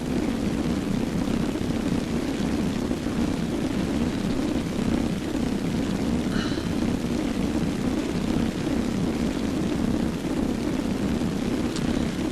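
An aircraft flying during a video game battle: a steady, full-bodied engine drone holds at an even loudness for the whole stretch, with no voices over it.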